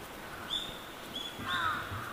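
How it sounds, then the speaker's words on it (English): Crows on top of city buildings, giving a few distant caws over faint urban background noise. "There's some crows at the top of those buildings over there."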